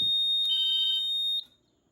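Grinnell/Autocall C-2224 fire alarm panel sounding a steady, loud high-pitched electronic tone for over a second, then cutting off abruptly into near silence.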